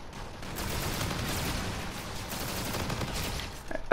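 Sustained rapid automatic gunfire from the X-Eon DLC weapon in Call of Duty Infinite Warfare, a dense unbroken crackling fusillade lasting several seconds at moderate level, with no talk.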